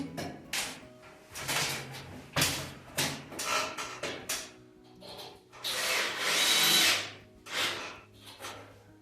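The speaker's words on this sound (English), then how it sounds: "going along, drilling all the holes, putting screws and plugs in" A power drill whirs in a series of short bursts, drilling holes in a bathroom ceiling, with pauses and handling noise between them, close by and moderately loud.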